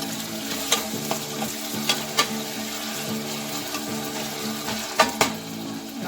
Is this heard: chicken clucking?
no